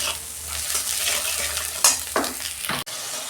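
Spiced masala paste with turmeric, chilli powder and cumin cooks down in oil for a katla fish curry, giving a steady close sizzle with a few sharp scrapes of a spoon against the pan near the end.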